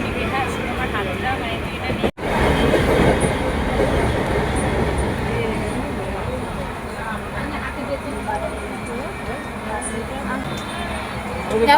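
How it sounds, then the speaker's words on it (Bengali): A moving passenger train heading to Tarapith produces a continuous rumbling, rattling drone, heard close inside the carriage with people talking over it. "আমাদের ট্রেন ছেড়ে দিয়েছে, ঠিক আছে।"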